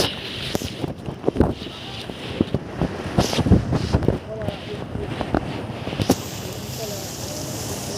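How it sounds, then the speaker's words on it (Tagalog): Strong sea waves at night by a park on the shore at Limay, with boats nearby, crash and surge in loud irregular bursts amid gusting wind noise while someone talks. "Ito, lakas na alon na dagat."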